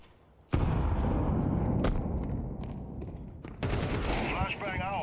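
A grenade in Counter-Strike 2 goes off with sharp explosive bursts amid in-game gunfire and thuds, heard at close range and fairly loud.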